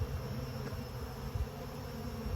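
Honey bees buzzing during a hive inspection, larger drones among the workers; a steady, close, droning hum with slight swells, no talking.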